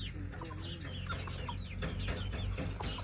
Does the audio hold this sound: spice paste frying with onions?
no